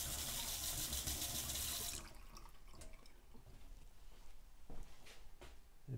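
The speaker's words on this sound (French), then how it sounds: "je mets la brasure à argent sous l'eau pour la refroidir un petit peu plus vite" A silver-brazed brass carburettor plug is cooled under running water: a loud rushing tap stream for about two seconds, then quieter trickling, drips and small clinks as the workpiece sits in the water.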